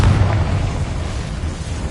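A Confringo fire spell detonating in Hogwarts Legacy, a loud, deep explosive boom with a dense rumbling tail that fades gradually over two seconds, close and alone without speech.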